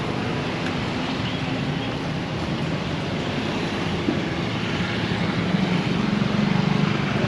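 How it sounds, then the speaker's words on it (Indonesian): Heavy machinery works at a provincial road-widening site in Kuningan, heard as a steady, dense engine rumble with a low droning hum that swells slightly toward the end, set in broad outdoor noise with no voices. "alat berat yang bekerja di sebelah sini sobat"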